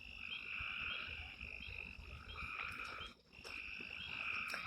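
Frogs chorus at night outside a country store, a dense, steady trilling with layered croaks, fairly distant and faint with a brief dip midway.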